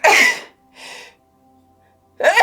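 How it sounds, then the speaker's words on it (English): A loud, sharp sneeze bursts out, followed by a softer breathy sound and then a second forceful sneeze close by. "Oh, I gotta sneeze."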